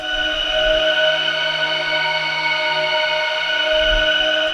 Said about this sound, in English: all this is going into a pretty long reverb with a lot of wet